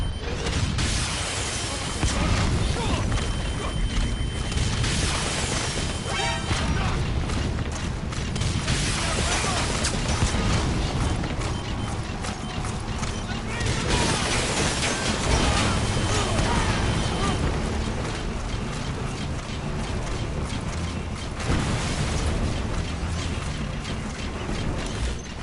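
Loud, continuous game combat in Metal Gear Solid V: The Phantom Pain, with weapon fire, mechanical clatter and blasts layered over a dense, steady wall of noise, with some voices mixed in.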